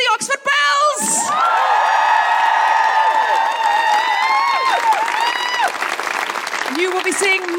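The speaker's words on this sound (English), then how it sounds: "A big round of applause for the Oxford Bells." An amphitheatre audience at a live comedy podcast taping applauds the Oxford Bells, loud and sustained, with whoops and cheering voices riding over the clapping throughout.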